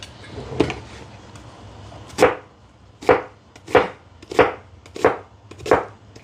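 Knife chopping vegetables on a kitchen board while garden zucchini, tomato and carrot dishes are prepared: six sharp, evenly spaced thuds close by, with a few softer knocks before them and no talk.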